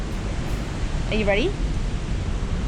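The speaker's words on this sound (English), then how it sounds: "that waterfall is pumping. Yeah, if you can hear that, that's aggressive." A powerful waterfall roars as a steady, broadband wash of rushing water at an Australian beach spot, constant and loud, with a short spoken line heard briefly over it.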